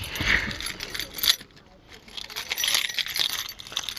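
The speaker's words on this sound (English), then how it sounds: "It'd probably help if I'd grab my keys out my hat." Keys jangle in bursts while someone works on replugging a G20 van, with metallic clinks scattered across a few seconds amid light background noise and some speech.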